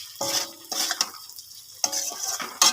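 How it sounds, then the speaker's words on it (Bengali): Potatoes stir-fried in a pan, with several bursts of scraping and clinking from a utensil against the pan separated by brief quiet gaps, close and moderately loud. "আলুগুলো দিয়ে কষতে ভালোভাবে কষিয়ে নিতে হবে।"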